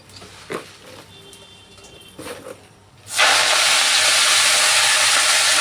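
Leafy greens drop into hot oil tempered with dried red chillies and five-spice, bursting into a loud, steady sizzle that fills the second half after quieter kitchen sounds.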